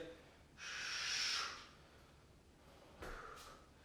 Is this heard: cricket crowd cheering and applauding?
no